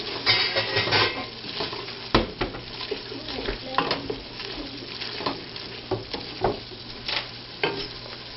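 Cumin being stirred into cooking chili, a spoon scraping and knocking against a pot in irregular strokes over a low sizzle, close and clear throughout with no talking.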